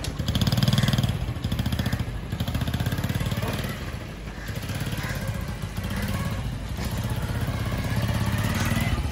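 A modified motorcycle engine runs close by with a rapid, rough, popping throb, rising and falling slightly as it is revved.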